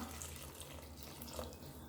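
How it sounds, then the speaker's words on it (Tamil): Water pours steadily from a tap into a pot of radish kola urundai curry, a continuous close splashing rush lasting the whole short moment with no voices. "நான் இது கூட இன்னும் 1 கப் அளவுக்கு தண்ணி சேர்த்துருக்கேன்"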